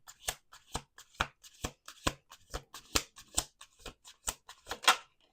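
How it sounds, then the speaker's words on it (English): Tarot cards shuffled at a table in a run of about a dozen crisp, evenly spaced riffling bursts, close and clear with no talking. "We're going to do 2 more shuffles."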